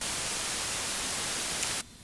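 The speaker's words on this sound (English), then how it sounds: "So this is white noise. It's going to sound disgusting." Steady broadband white noise plays as a test signal, loud and uniform hiss, cutting off abruptly just before the end.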